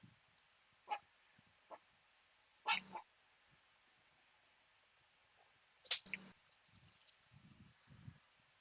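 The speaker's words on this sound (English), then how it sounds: "What are you barking about, Olivia?" A dog lets out a few short, separate barks with quiet gaps between them, then some soft, muffled rustling sounds.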